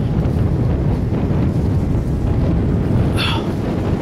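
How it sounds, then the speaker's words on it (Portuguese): Strong wind buffets a camera microphone among the ruins of a house, producing a loud, constant low rumble with gusty fluctuations and no speech. "Tá um vento muito forte aqui. A câmera deve estar fazendo um barulho aí"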